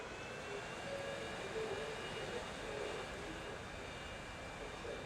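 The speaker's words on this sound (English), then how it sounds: "here comes a plane now" A passenger plane in Transport Fever 2 drones steadily throughout, a broad, even engine roar with a faint whine, moderately distant and unbroken, with no talking over it.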